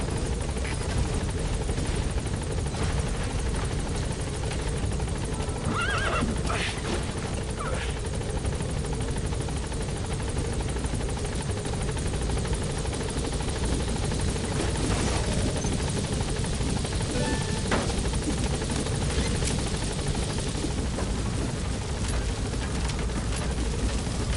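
A helicopter in a video game hovers near a landing zone, then climbs away. A steady, loud rotor and engine drone runs unbroken throughout with only slight swells.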